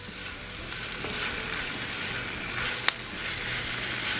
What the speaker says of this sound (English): Get our onions cooked up and our peppers.